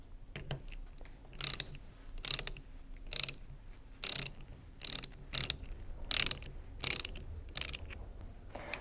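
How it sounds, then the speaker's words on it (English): A ratchet tightens the pump bolts on a Karcher pressure washer, with about ten short, regular bursts of clicking a little under a second apart. Each burst is distinct and fairly close, with no talk. "Remember, don't stop until all bolts are firmly tightened."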